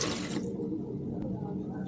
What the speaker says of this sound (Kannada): 1 ಕಪ್ ಬಾಸ್ಮತಿ ಅಕ್ಕಿ ತೆಗೆದುಕೊಂಡಿದ್ದರಿಂದ 2 ಕಪ್ ನೀರು ಹಾಕಿ.